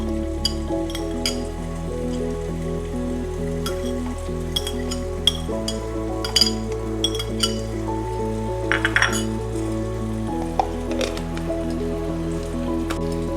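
Onion, garlic and ginger being ground into a paste: a steady motor whine shifts pitch in a few distinct steps, with small clinks and wet squishing on top, and no talking.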